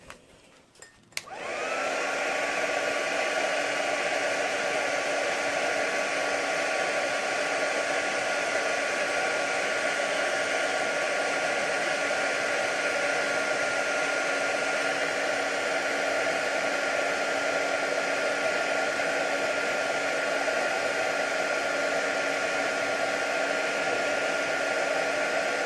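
A heat tool blasts over metal on a mixed media hoop: a short clunk of the tool switching on, then a steady, loud, even whooshing roar of blowing hot air, like a hair dryer, that runs without pause to the end.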